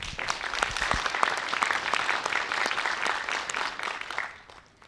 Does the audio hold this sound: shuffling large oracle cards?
no